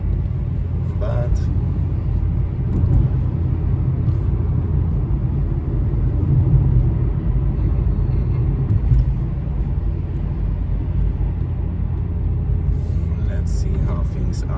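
Cheap rental car from Albania driving on a road between Morinj and Herceg Novi, a steady loud low interior rumble of engine and tyres throughout, with faint voices in the cabin.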